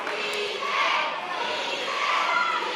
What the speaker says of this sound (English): hearing the crowd here at Rosel Park screaming PJ's name